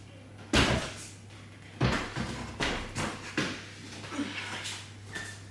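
A pantry door being worked off its hinges during a small walk-in pantry makeover, heard as several close wooden knocks and clunks spread through the clip, with a steady low hum underneath.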